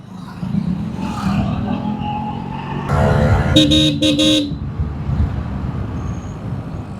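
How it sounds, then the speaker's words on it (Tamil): A vehicle horn honks on a road in Salem, with a loud sustained blast of several seconds over steady traffic and engine noise, heard up close. "நம்ம ஆரம் அடித்தோம்னா அவருக்கு எப்படி இருக்கும் இரிட்டேட்டாக தானே இருக்கும்"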